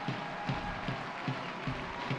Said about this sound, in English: Crowd's really getting behind them on the corners too.